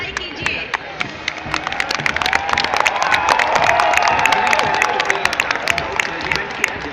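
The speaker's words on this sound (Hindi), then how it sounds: "तालियों की गड़गड़ाहट से इनकी हौसला अफजाई कीजिए।" A crowd applauds a military band marching in a parade, with dense rapid clapping and some cheering that swell to a peak midway and then hold, loud and close.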